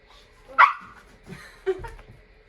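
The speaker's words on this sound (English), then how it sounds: "the dogs are playing in front of me" Dogs playing together during a home yoga session let out a couple of short barks and yips, fairly close, with quieter shuffling between the bursts and no talk.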